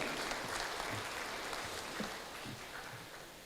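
Quiet, distant applause from the audience at an academic oration ceremony, a soft, even patter of many hands that fades slightly over a few seconds.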